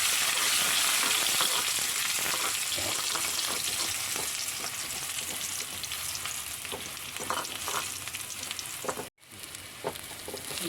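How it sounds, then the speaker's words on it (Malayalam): Shallots and curry leaves sizzle and crackle in hot oil while being tempered, a steady loud frying hiss with scattered pops and brief stirring sounds. "നമുക്ക് താളിച്ചൊഴിക്കാം. ഒരു തണ്ട് കറിവേപ്പില ഇട്ട് കൊടുക്കാം."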